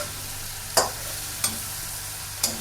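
Potato and cauliflower mixed into frying masala for aloo gobi, a constant close sizzle broken by three distinct spoon clanks against the pan spaced about a second apart.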